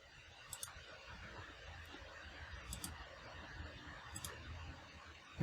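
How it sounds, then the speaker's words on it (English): Faint, crisp computer mouse left clicks sound alone over quiet room hiss, a few scattered single and double clicks spread across several seconds. "I'll start by left clicking this point to draw it in."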